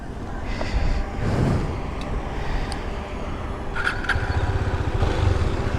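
A KTM Duke 250 BS6 motorcycle pulls away in first gear, its engine note rising steadily against steady road and wind noise, with a brief voice over the engine.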